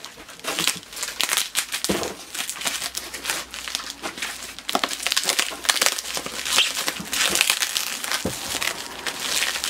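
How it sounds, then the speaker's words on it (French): Wrapping paper torn and crumpled while unwrapping an anniversary gift: continuous close crinkling, crackling and ripping that comes in busy bursts throughout, with no talking. "Il y a plein de papiers, toujours emballés."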